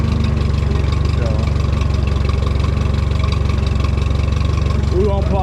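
A vehicle engine putters along slowly in second gear on a rural property, a steady low rumble running throughout with faint voices at moments.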